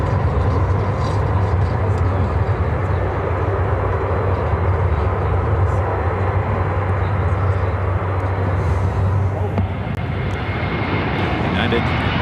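A United Airlines Airbus A321neo airliner at Chicago O'Hare Airport makes a steady, loud jet engine roar with a low hum throughout, easing slightly near the end, with voices heard over it.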